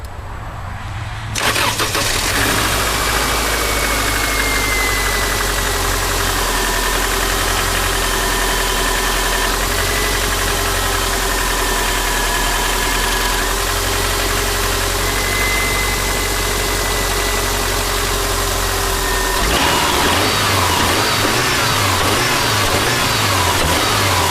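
A Subaru engine cranks and catches on a cold start, then settles into a steady, loud idle with a constant hum and faint whine, heard up close with no talking.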